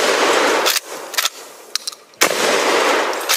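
Repeated gunfire aimed at a small barrel, with a long loud burst, a few short sharp shots in the middle, and a second sustained burst, all close and loud.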